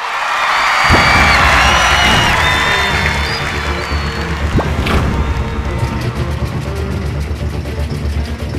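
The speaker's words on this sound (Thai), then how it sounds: "ขอเสียงปรบมือต้อนรับกัสโนวาและโมเดิร์นด็อกครับ" A loud crowd at the Seed Awards ceremony cheers, whoops and applauds as Casanova and Modern Dog take the stage, a sustained roar with shouts on top that gradually settles lower.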